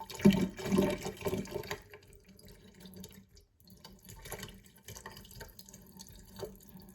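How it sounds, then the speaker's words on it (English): Water and floating pulp are poured off soaking tomato seeds in a container, with a splashy gush at first and then fainter trickles and drips until it ends. "then we're going to do the same thing and pour off everything that's floating"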